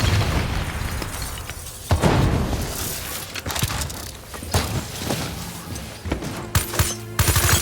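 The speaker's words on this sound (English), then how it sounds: "They're about to detonate!" Robots detonating in the Call of Duty Black Ops 3 video game, a chaotic barrage of loud booming blasts, crackling debris and gunfire in rapid succession, close and dense throughout.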